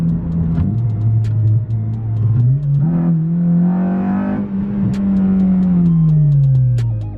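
A car engine revs up hard and holds a rising, strained drone before easing off, loud and close, with no voices.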